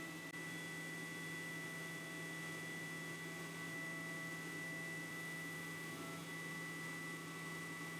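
A 20W laser cutter working through 6mm MDF, a steady whirring fan-and-air hum with faint tonal whine, constant and even throughout, no talk.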